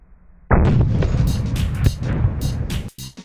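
A hunting rifle fires a single loud shot during sighting-in, close by, with a heavy boom that rolls on and echoes for a couple of seconds before trailing off.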